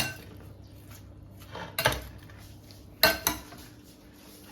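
Utensils tossing a spicy crab stick and tuna salad in a bowl, a few sharp clinks and scrapes at intervals over a faint background, no talking.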